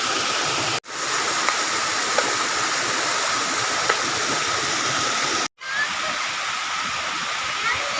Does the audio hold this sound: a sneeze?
no